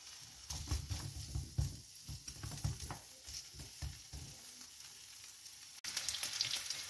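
Chorizo browning in a hot pan for a chicken and shrimp paella, a steady crackling sizzle with scraping stirs close up, continuing without talk and briefly louder near the end.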